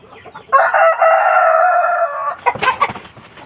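Free-range chickens and a rooster squabble nearby: one loud, drawn-out crow followed by agitated clucking and squawks, close up, with no talk.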